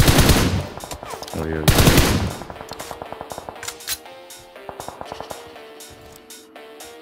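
Rapid automatic gunfire in PUBG Mobile crackles in bursts and scattered single shots, loud and close, with a man's brief exclamation at the start.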